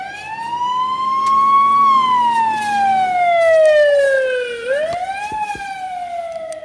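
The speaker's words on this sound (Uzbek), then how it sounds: "tez yordam mashinasi sizga yaqinlashib kelayotganida uni sirenasi ovozini balandroq eshitasiz" An ambulance siren wails loud and close, its pitch sliding gradually downward as the vehicle moves past, then jumping back up briefly before holding steady; traffic rumble sits faintly underneath, with no talking.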